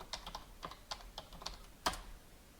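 Keys clack on a computer keyboard as commands are typed into an Ubuntu terminal on a Raspberry Pi 5, a string of quick, close, crisp taps with a slightly louder stroke near the end.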